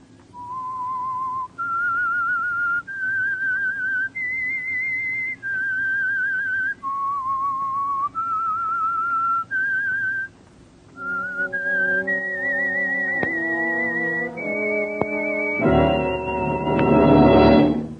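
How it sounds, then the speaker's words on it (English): A person whistles a tune of clear sustained notes, stepping up and down in phrases, then a second, fuller rendition with accompanying tones swells at the end: the whistled opening theme of the old-time radio drama The Whistler. "That whistle is your signal"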